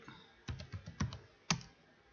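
Keys clacking on a computer keyboard while Java code is typed, a short burst of several distinct close, crisp strikes in an uneven rhythm with a louder final tap, no talking.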